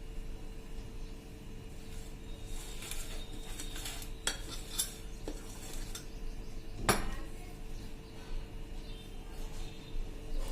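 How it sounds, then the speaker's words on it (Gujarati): Bun dough ingredients are mixed in a bowl at room temperature, a steady soft stirring scrape with light clinks of a utensil against the bowl and one sharper knock midway. "હવે આ બધું આપણે મિક્સ કરી લેશું।"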